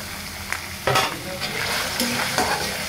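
Chopped onion goes into a pan of village-style desi rooster pieces for a spicy chicken curry, sizzling steadily up close while a spoon stirs and scrapes in short bursts.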